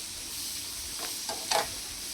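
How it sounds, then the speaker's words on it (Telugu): Onions fry in oil with a constant close sizzle and hiss, broken by a few short stirring scrapes, with no voices. "ఇలా నూనె బయటకు వచ్చేదాకా వేపుకుందాము"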